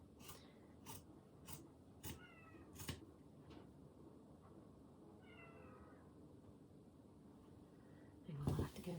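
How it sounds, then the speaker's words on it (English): A house cat meows several times in short, fairly faint calls spread across a quiet room, with a louder rustling bump near the end. "Excuse my cat, she's shouting."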